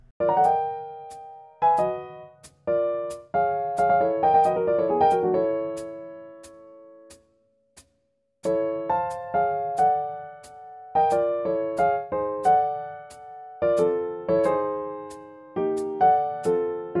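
A piece played as a series of parallel major triad chords, short punchy stabs and runs with gaps between phrases and a brief silence midway, no talking.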